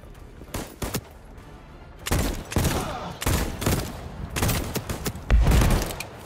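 Rapid bursts of gunfire from the player's gun in the video game Voidtrain, loud and close, coming in repeated volleys with short gaps and heavy low thumps near the end.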